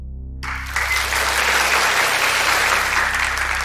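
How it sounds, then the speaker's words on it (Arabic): An audience on a university quiz show breaks into sustained applause after a short silent moment, a loud, even wash of clapping that continues to the end. "فجأة الجمهور بيسقف لك"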